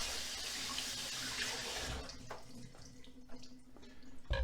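Tap water runs onto a cutting board in a kitchen sink, a steady close splashing rinse that tapers off into a few drips and gurgles after a couple of seconds.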